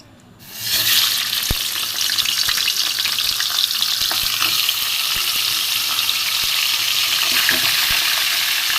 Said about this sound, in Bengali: এখানে মাছের মাথাগুলো নুন হলুদ লিখে রেখে দিয়েছিলাম এইগুলো আমি ভেজে নেব